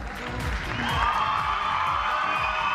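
An audience at a stallion show claps and cheers for a horse, a building wave of applause and whoops that swells and holds steady, with music or announcer sound underneath.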